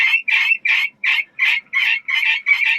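Guinea fowl and chickens call loudly outdoors on a farm, a rapid string of harsh, regular squawks repeating about three times a second, close and without any talking.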